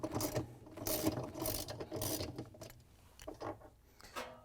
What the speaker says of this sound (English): It's a 7/16" bolt, and we're going to turn it counterclockwise to loosen it up.